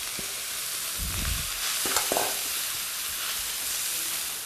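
Ginger, garlic, green onions and spinach being stir-fried for shrimp and orange fried rice, a steady close sizzle and hiss with a few soft stirring scrapes and clanks, no talking.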